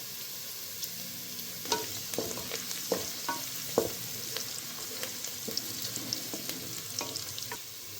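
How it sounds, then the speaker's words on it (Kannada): Masala fries to light brown in a pan for a country-style goat head-and-leg sambar, a constant close sizzle broken by scattered clinks and scrapes of stirring. "ಸ್ವಲ್ಪ ಲೈಟ್ ಬ್ರೌನ್ ಬರೋ ಗಂಟ ಫ್ರೈ ಮಾಡ್ಕೊಳ್ಳಿ"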